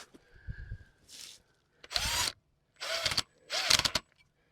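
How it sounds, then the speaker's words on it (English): A power drill drives screws into a timber frame plate in short whirring bursts, three loud spins in succession after a quieter opening, with pauses between each. "I broke another bit, Jay."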